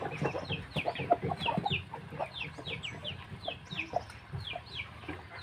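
Pamangon or Burma Mangon chickens in a yard in Cianjur, West Java, with a rooster crowing amid steady clucking and calls from several birds, fairly close and continuous.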